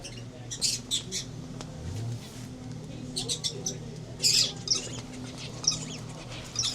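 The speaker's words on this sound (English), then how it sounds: "I know birds can be a lot of fun because they're very active and talkative." Birds in a pet shop squawk and chirp in short, sharp bursts that come in clusters, fairly near, over a low background hum of the shop.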